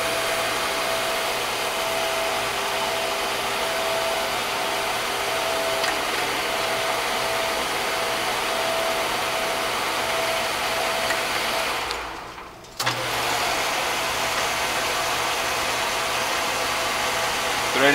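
A Monarch 10EE 12.5 x 20 inch precision toolroom lathe runs steadily on power feed, a constant motor whine and hum with a brief dip near the end before resuming, close and loud with no talk.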